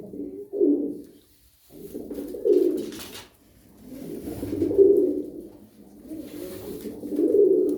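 Pigeons from Rize cooing close by, a series of low, soft throaty coos in rolling phrases separated by brief pauses, several birds overlapping at moderate loudness with no talking.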